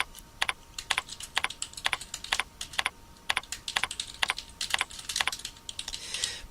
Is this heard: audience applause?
no